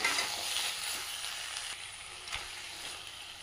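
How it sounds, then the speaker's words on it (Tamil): Chicken varuval roasts in a pan with curry leaves, giving a steady, soft sizzling and frying hiss throughout, with a faint stir or scrape now and then and no voices. "சிக்கனும் நல்லா ரோஸ்ட் ஆகி வந்திருக்கு."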